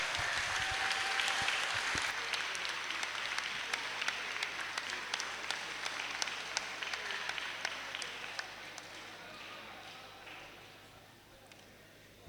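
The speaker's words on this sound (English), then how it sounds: "Please give him a round of applause." An audience at a business pitch session applauds after a presenter finishes, a dense steady clapping that gradually thins and fades toward the end.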